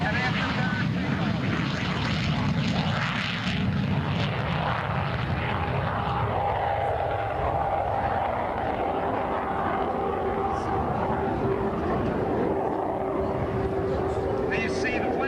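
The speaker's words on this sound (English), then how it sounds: "An afterburner takeoff." A MiG-17 jet lights its afterburner for takeoff at an air show, a thick, continuous roar that holds steady across the whole stretch while an announcer's voice carries over it.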